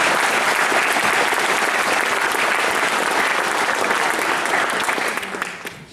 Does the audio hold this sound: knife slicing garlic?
no